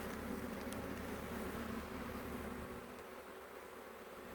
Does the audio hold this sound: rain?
no